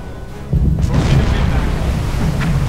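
A torpedo strikes a ship in the submarine game Silent Hunter 4, bursting into a deep, rumbling explosion that swells suddenly and rolls on loudly with crackling fire beneath, while someone talks over it.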